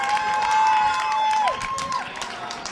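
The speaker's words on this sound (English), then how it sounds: "the Wayne Hills crowd trying to get behind their Patriots" Home crowd at a Wayne Hills Patriots high school state quarterfinal basketball game against Passaic Valley, cheering and shouting loudly and steadily in a gym, with whistle-like tones on top and a slight drop near the end.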